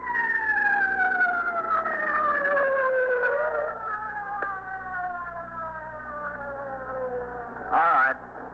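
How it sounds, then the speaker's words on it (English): An ambulance siren wails in a police radio drama, its long gliding tones sweeping slowly downward, steady and fairly loud throughout, with a brief louder burst near the end. "The ambulance is just coming up here."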